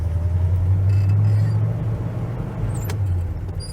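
A 1969 Pontiac GTO Judge muscle car's engine runs with a steady, loud low rumble close by, holding an even idle throughout.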